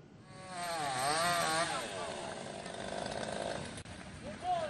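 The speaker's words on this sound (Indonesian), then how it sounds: "Petugas menggunakan gergaji mesin untuk memotong dahan pohon yang menimpa kendaraan" A chainsaw whines and revs steadily, cutting through the branches of a fallen banyan tree that crushed cars on a Jakarta street, with shifting pitch and a voice talking over the engine noise.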